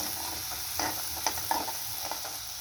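Turmeric powder sautéed and stirred in a pan for a spicy cowpea (chavli) bean dish, a steady low sizzle with a few soft spatula scrapes at intervals, close and alone without talk.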